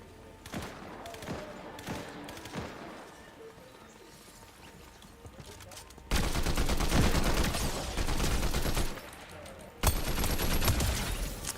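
Fortnite gunfire crackles in scattered sharp shots, then erupts into loud sustained bursts of rapid fire, with speech mixed in.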